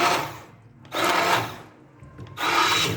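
Mustard greens for sarson ka saag ground in an electric grinder machine, loud whirring bursts that start and stop three times with short quieter gaps between, no talking.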